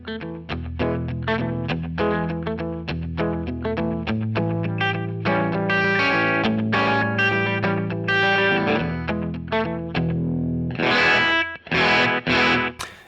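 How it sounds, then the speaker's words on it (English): Electric guitar through a Kemper Profiler, playing rockabilly lines with a slightly distorted slapback echo; steady, loud picked notes and chords with no voices. "maybe a little bit of grid, so to have this slightly distorted echo"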